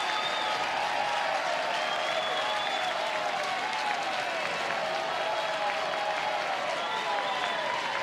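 A college softball stadium crowd cheers and applauds loudly and continuously during Alabama vs Belmont, with an announcer's voice faintly audible over the roar.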